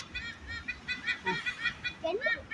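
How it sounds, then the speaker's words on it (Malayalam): Repeated harsh, honking calls of a seagull-like bird sound out in short bursts at moderate distance at Bekal Fort, Kasaragod, Kerala, with faint voices in the background. "അത് കടൽക്കാക്ക പോലത്തെ സാധനമാണ്"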